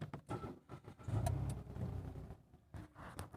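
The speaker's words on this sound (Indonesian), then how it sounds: "Kita dengarkan suara mesinnya." A used Mitsubishi Mirage engine cranks and starts with the brake pedal pressed, followed by a steady close idle with a slight rev, heard alone without talk.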